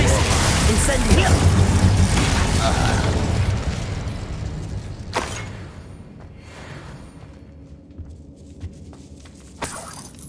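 A fire spell blasts in the Hogwarts Legacy video game, a loud, roaring burst of rumbling explosion that fades over several seconds, followed by fainter scattered pops and crackles.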